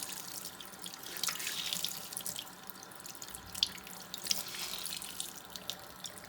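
A sink tap runs with warm water opened wide while a makeup sponge is rinsed, a steady hissing stream with splashing swells and a few sharper drips, fairly quiet and without speech.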